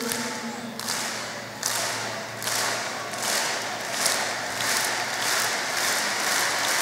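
An audience at a Mexican government annual report event claps at the close of a speech, a broad steady wash of hands broken by regular louder thumps, with no voices over it.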